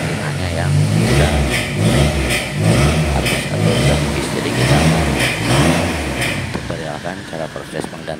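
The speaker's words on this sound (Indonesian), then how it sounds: "Kita akan coba nyalakan dulu mesinnya. Jadi tiap dinyalakan, kita lepas gasnya, mesinnya langsung mati." A Toyota Corbet car engine that cannot hold an idle is started and revved in repeated surging pulses, then left to sputter and falter. The engine is loud and close, and someone talks over it.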